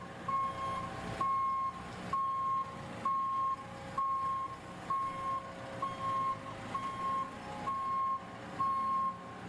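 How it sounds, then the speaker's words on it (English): Regular reversing beeps sound from a vehicle carrying plasterboard on a building site as it slowly backs up, a steady repeating tone about once a second over a continuous engine drone, with no talk. "He's going nice and slow as he's having to drive this in reverse."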